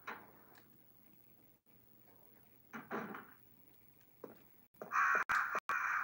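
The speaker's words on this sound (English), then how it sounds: "The crows again?" Crows cawing with no one talking: a faint call near the start, then two clearer caws spaced a second or so apart, and a loud, harsh burst of cawing at the end.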